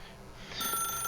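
A telephone in The Stanley Parable video game starts ringing about halfway through, a faint, short electronic trill with no talking.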